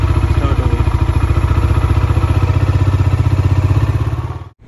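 A Bajaj Dominar motorcycle engine, in neutral after sitting unused for a week, idles loud and close with a steady, even pulse, then cuts off abruptly at the end.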